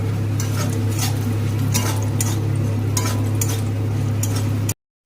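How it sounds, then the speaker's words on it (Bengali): Lentil dumplings (bori) frying in oil left over from frying fish, with a steady sizzle and repeated scraping and clinking of a utensil against the pan, close up, cut off abruptly just before the end. "মাছ ভাজা তেলেতেই এই বড়িগুলোকে ভেজে তুলে নেব।"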